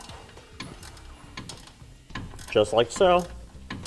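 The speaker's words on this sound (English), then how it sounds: "Using a 9/16 ratcheting wrench." A 9/16 ratcheting wrench snugs up the bottom bolt of a Firestone Sport-Rite air helper spring, giving soft repeated ratchet clicks near at hand, with a brief spoken remark over the clicking.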